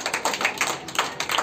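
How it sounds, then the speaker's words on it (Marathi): A classroom of children clapping for a classmate, a short patter of quick, light claps at close range, uneven and overlapping. "चला शिवसाठी पण टाळ्या वाजवा."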